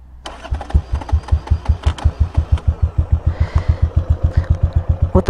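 A motorcycle engine cranks and catches, then settles into a fast, even chugging idle with regular close pulses, loud and near, with a few clicks in the first seconds.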